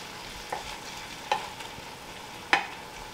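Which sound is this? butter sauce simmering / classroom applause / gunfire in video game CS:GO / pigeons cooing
butter sauce simmering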